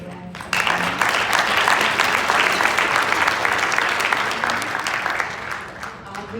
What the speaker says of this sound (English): let's give Audrey a round of applause